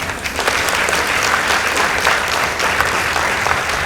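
Audience at a school debate between Gathirimu Girls High School and Thika High School applauding a team's score, a loud continuous wash of clapping filling the room.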